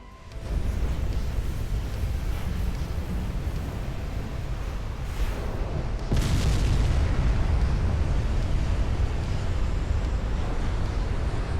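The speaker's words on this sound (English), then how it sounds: "there's our second flash fire" Warship flash fire explosion in the naval game Ultimate Admiral: Dreadnoughts: a long, loud roaring blast rumble that swells abruptly about halfway through into a heavier, deeper boom and keeps roaring, with no talking.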